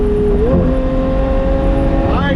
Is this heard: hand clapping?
no